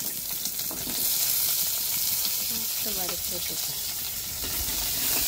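Onion and garlic with dried red chillies sautéing in oil in a pan, a steady close hiss and crackle with faint clinks of stirring throughout.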